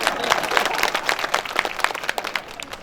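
An audience at a political party workers' meeting breaks into brief, dense clapping, a close burst of applause lasting a few seconds.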